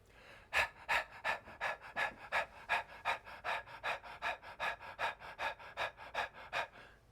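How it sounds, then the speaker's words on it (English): Rapid, even panting breaths of the yoga breath-of-fire technique, about twenty quick rhythmic exhales in a steady run, close and fairly quiet with no talk. "Breath of fire is a panting breath"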